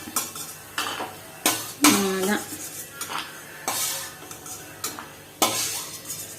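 A spoon scrapes and clinks against a pan in a steady rhythm while ingredients for payasam dry-roast, with faint sizzling beneath and a voice talking quietly.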